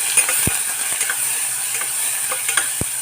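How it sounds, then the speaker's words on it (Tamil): Tomato, shallots, green chili and curry leaves sauté in a pan for fish soup, a soft steady sizzle broken by a couple of sharp spoon scrapes against the pan. "தக்காளி சின்ன வெங்காயம் பச்சை மிளகா கருவேப்பிலை இது லேசாக சும்மா அப்படி வதங்கினா போதும்"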